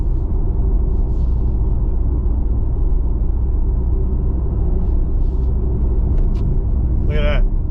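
2024 Dodge Hornet R/T with a 6-speed transmission cruising, a steady low road and engine rumble throughout with a faint high chirp near the end.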